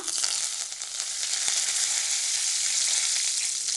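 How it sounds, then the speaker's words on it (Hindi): Hot oil hisses and spatters in a bright, continuous sizzle as curry leaves fry, steady and close with no voices. "ये गरम तेल में हम कड़ी पत्ता"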